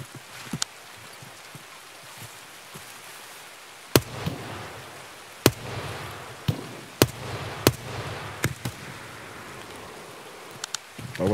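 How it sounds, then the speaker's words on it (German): Gunfire in the video game Escape From Tarkov: a handful of sharp, separate shots ring out at irregular intervals, some loud and close, others fainter, over a low background hum. "Auch von hier vorne kamen auch Schüsse"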